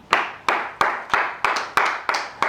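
A group claps in acclaim of the Lord with eight sharp, evenly spaced claps in a steady rhythm, loud and close, with no voices.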